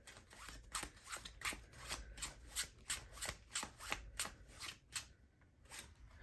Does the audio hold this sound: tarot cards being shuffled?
yes